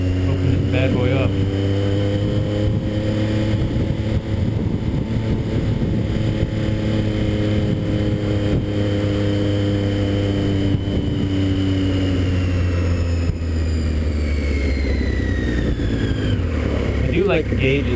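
A 2012 Triumph Street Triple R motorcycle engine revs and accelerates, its harmonic drone rising and falling in pitch as it pulls through gears, loud and close with steady wind rush.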